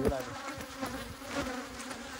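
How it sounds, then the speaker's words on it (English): A queenless honey bee colony gives off a loud, roaring buzz inside the hive, heard up close with a few faint clicks and a short word spoken over it. "So I'm gonna listen to the bees. The bees queenless roar."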